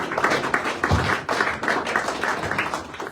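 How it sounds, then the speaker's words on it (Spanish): Church congregation applauding in a steady, dense wash of clapping through a morning worship service, fairly close and sustained, with a few voices faintly mixed in. "Den un fuerte aplauso a Cristo Jesús esta mañana"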